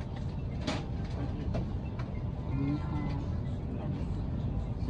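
Inside a moving Chinese bullet train, running between Shijiazhuang and Xi'an, a steady low rumble fills the cabin, with a few faint clicks and brief cabin sounds over it.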